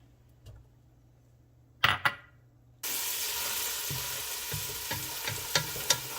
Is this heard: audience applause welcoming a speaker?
no